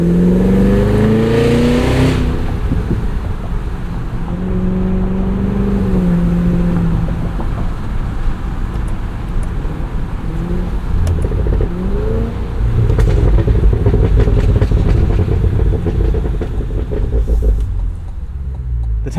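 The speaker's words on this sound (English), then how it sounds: "just when you think the pops and burbles are manufactured and tuned in, they become a little bit unpredictable." A 2025 Cadillac Escalade V, heard from inside while driving, gives a loud, steady engine rumble with revving rises and irregular exhaust pops and burbles throughout.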